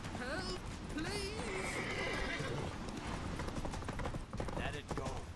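Geralt's horse Roach in The Witcher 3 gallops with steady clip-clop hoofbeats and gives several whinnying neighs, all over a dense bed of game sound and music.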